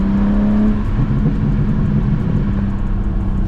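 BMW G80 M3 engine in manual mode, loud and close, revving hard with a rough, rumbling roar that holds steady under acceleration for a few seconds.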